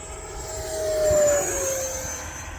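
An E-flite Viper 90mm electric ducted-fan model jet screams past at full speed, its whine swelling as it nears and then falling away with a clear pitch drop.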